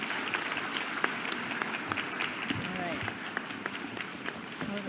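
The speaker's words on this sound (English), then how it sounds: "I'd like to invite you to accept another round of applause" An audience at a launch event gives teachers a round of applause, a soft, steady patter of many hands at a distance, with faint voices underneath.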